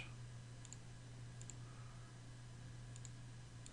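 Computer mouse clicking while drafting in AutoCAD, a few faint, evenly spaced double clicks over a steady low electrical hum in a quiet room.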